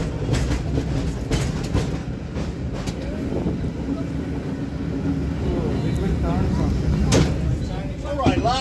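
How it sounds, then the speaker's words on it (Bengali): A San Francisco cable car rolls through city streets, its rumbling rail noise and clattering wheels running steadily beneath faint background voices, with a few brief squeals near the end. "আমরা এই কেবল কার করেই রাস্তাতে সান ফ্রান্সিসকোর চায়নাটাউনের মধ্যে দিয়েও গেলাম"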